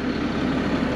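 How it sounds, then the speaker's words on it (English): An Onan 7500 diesel generator runs steadily on a 2006 Itasca Ellipse 40FD Class A diesel pusher motorhome, giving a continuous low engine drone at close range, even and unbroken throughout. "Does have the 7500 Onan diesel generator running right now, powering everything inside."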